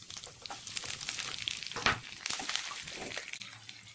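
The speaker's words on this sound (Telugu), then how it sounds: "ఇప్పుడు ఆనియన్, పచ్చిమిర్చి అండ్ కరివేపాకు వేసుకుందాం" Chopped onion, green chilies and curry leaves frying in a pan with mustard seeds and cumin, a quiet sizzle with stirring scrapes and small crackles, fairly faint overall.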